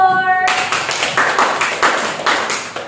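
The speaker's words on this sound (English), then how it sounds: "Applause to group 4." Scattered clapping from a small group, light and uneven, after a brief opening of other sound.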